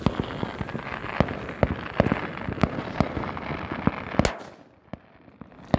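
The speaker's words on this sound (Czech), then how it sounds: "Zapaluju petardu." Firecrackers bang in a rapid, irregular crackle of sharp pops during New Year celebrations, ending in one louder close blast followed by near silence with a few scattered distant pops.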